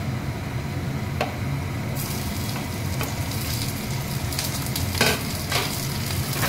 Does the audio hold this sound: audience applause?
no